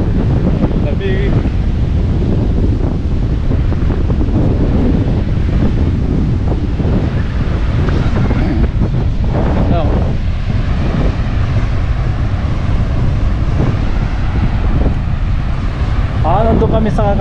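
Strong wind buffets the microphone on Torquay Beach, a loud constant roar mixed with surf, with brief speech-like sounds under it throughout.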